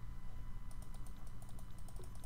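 Fast, light key clicks from a computer keyboard rattle in quick bursts over a low background hum, close and fairly quiet.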